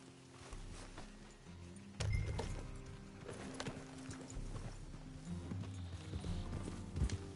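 Horse hooves clip-clop steadily at a walking-to-trotting pace in the Red Dead Redemption 2 video game, close and continuous, with a brief whinny and a soft voice urging the horse on.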